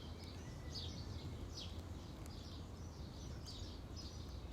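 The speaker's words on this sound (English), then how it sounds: "Let's say the sounds of the birds" Birds chirp outdoors in short, repeated calls at moderate distance, fairly faint over a low steady background rumble.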